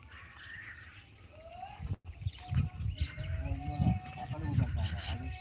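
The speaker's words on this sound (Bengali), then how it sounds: "বাবুই পাখির বাসা সবাই সন্ধ্যা লাগার সঙ্গে সঙ্গে প্রায় বাসার কাছে চলে আসছে" Weaver birds chatter and call from a busy flock at their nests at dusk, close to middle distance, a steady mix of chirps and tweets with low rumbling noise underneath.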